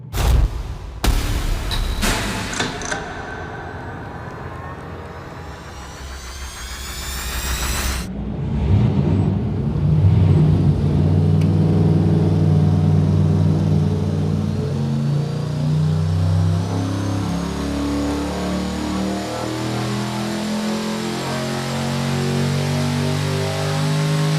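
Turbocharged junkyard short block engine on a dyno, with a loud roar that rises sharply, cuts off, then settles into a steady heavy drone with broadband hiss that stays loud throughout.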